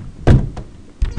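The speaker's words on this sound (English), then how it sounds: "It's got a really stiff door." A stiff hotel bathroom door being opened, heard as a few close, dull thunks and knocks: one solid bump, a lighter tap, then two more heavy knocks as it is forced, with no talking.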